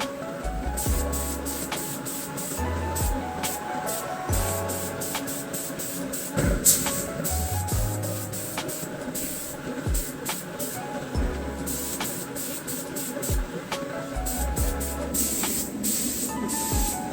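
A spray gun lays metallic paint onto parts of a crashed 2023 Aprilia RS660 motorcycle, with repeated hissing bursts of spray over a steady mechanical hum in a workshop.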